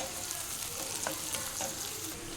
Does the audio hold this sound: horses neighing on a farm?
no